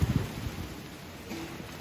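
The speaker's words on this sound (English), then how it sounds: "It's raining." Steady rain falling outdoors, a soft continuous hiss of drops with a few low rumbling thumps at the start, no voices.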